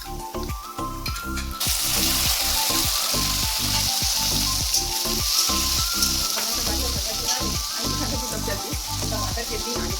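Chopped tomatoes hit hot oil in a pan for pasta and break into a loud, steady sizzle that runs on without a break, with the faint clink of the pan beneath it.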